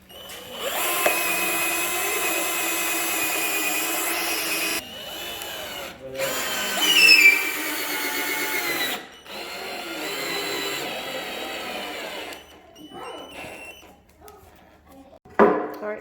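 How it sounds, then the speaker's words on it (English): Power drill pre-drilling a hole in wood while a DIY console table is assembled, a loud sustained whir running in several long bursts with brief pauses and a final short spurt. "Pre-drill the hole so it don't split the wood."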